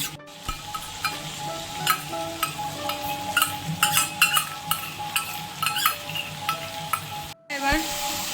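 Chicken masala with sour curd sizzles and fries in a pan while a utensil stirs and scrapes against the metal in repeated close strokes over a constant hiss.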